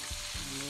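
Crab frying in hot oil in a wok gives a loud, continuous sizzle with bubbling crackle, punctuated by a couple of low thumps as pieces shift or are stirred.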